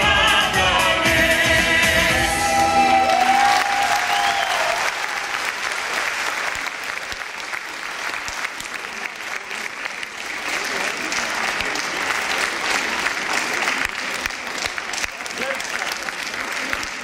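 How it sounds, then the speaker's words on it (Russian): Concert audience bursts into sustained applause as a song ends, a loud dense clapping that rises over the fading music and continues steadily to the end, with some voices mixed in. "Ваши аплодисменты."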